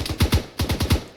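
Gunfire in the ArmA 3 military game, a rapid automatic burst of about seven punchy, close shots in quick rhythm with a brief gap midway, loud and alone.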